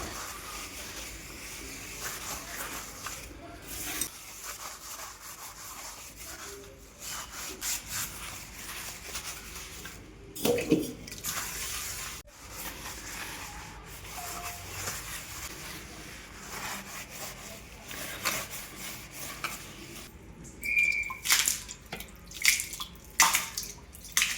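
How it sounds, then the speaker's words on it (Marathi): Gas stove tiles in a home kitchen are scrubbed with cleaning liquid, giving faint, steady rubbing strokes with a few louder scrapes and wet swishes. "सगळ्या गॅस स्टाईल्स आहेत त्या देखील मी अशा स्वच्छ सगळ्या घासून घेणार आहे लिक्विडनं"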